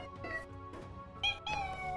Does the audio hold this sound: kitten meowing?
yes